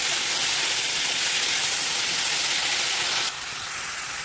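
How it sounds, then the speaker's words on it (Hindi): Mushrooms sizzle and hiss steadily in hot oil in a pan, a loud, continuous frying crackle that drops slightly in level near the end, with no talking. "अब मैं इसमें अपने मशरूम्स जो है ना वो ऐड करूँगी। और इसको भी थोड़ी देर के लिए जो फ्राई करेंगे इसको।"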